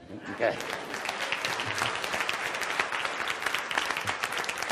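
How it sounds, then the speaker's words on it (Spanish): Audience clapping during a motivational lecture hall conference, a sustained bright patter of many hands that starts with a short burst and continues evenly, fairly close, with voices faintly mixed in. "Eso merece un aplauso."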